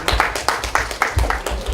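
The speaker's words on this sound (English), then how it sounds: "I'm hearing the claps are a little bit quiet down the back here" Audience clapping at an education talk, a scattered crowd applauding at moderate volume with uneven bursts of claps, some voices murmuring underneath.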